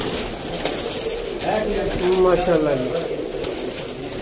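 Champion Teddy and slate pigeons kept for sale in Sialkot coo softly in the background, low burbling calls under someone speaking nearby.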